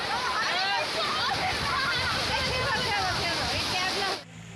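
Sea water at Puri beach splashes and churns continuously around bathers, a loud, dense wash with children's voices mixed in before it cuts off near the end.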